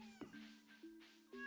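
A cat meows three times in quick succession, each call short and fairly faint against a quiet room, with no talk in between.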